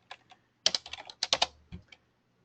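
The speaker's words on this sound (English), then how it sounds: "So I'm just going to type in a random item." Close computer keyboard typing: a couple of isolated taps, then two quick clusters of keystrokes and a final pair, crisp clicks in a quiet room.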